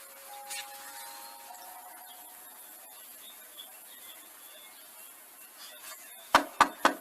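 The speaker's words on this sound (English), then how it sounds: "I'm just gonna knock." Three sharp knocks near the end, close and loud, after a stretch of quiet room tone with a faint hum.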